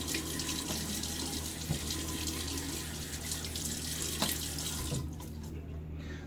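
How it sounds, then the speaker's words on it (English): Water runs steadily from a bathroom sink tap while someone splashes it onto their face, a close, continuous gush with a few distinct splashes before the flow cuts off near the end. "first let me douse my face in some water"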